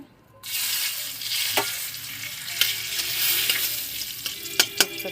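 Hot ghee crackles and sizzles steadily with a bay leaf added after a brief quiet start, with a few sharp pops and light scraping sounds along the way.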